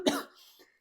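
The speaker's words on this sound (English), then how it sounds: "I just choked there. I just coughed" A single sharp cough bursts out close to the microphone, followed by a brief raspy trailing breath and a faint throat sound.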